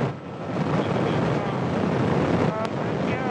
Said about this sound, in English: Liftoff of the Soyuz rocket.